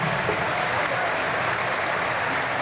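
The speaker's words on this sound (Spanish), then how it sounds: "Un aplauso para la Epic Symphonic Orchestra," Audience applause for an orchestra after a symphonic piece, a dense, steady clapping that fills the whole stretch at close range with no pauses.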